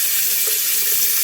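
Water draining from a kitchen sink after a Moen Essie faucet installation, a steady close hiss and trickle with no talk over it.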